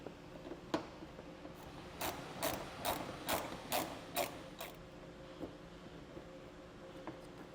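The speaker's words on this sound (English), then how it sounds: "Now we're going to take our 7mm socket and work it up into that crevice to get that bolt out, and I'm just going to be using a ratchet" A hand ratchet drives a 7mm socket while a bolt is loosened during base plate installation on a 2017 Chevrolet Equinox, a run of about seven rapid clicking pawl bursts, close and fairly loud, followed by a few scattered clicks alone.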